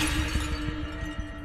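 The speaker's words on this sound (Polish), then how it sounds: "Upuścił talerz." A plate dropped and shattering as a dramatic sound effect, a busy crash of breaking crockery and glassy debris at moderate loudness, scattering and rattling steadily for a second and a half without any voices.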